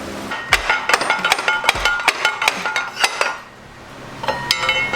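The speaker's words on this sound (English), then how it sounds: "Now we just gotta get this brake cable out and the whole axle will be out of here." Metal parts clank and rattle in quick, close bursts while the brake cable and rear axle are worked free from a 1979 Odyssey FL250, followed by a brief quieter pause before more clattering.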